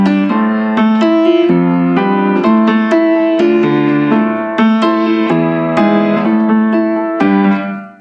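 Keys played through the RC20 Retro Color plugin on a vintage-style preset, a series of bright chords struck in a steady rhythm, loud and close, with ringing harmonics and the chords fading at the end.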